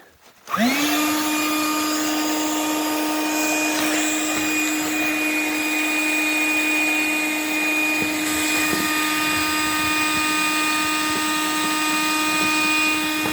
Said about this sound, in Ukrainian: Зараз спробуємо накачати його.